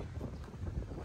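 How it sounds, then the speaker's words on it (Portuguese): Strong wind gusting at a crowded Portuguese seaside beside tidal pools, buffeting the microphone as a steady, low, rumbling roar that fills the whole moment. "Agora tá muito vento, não sei se o áudio tá bom"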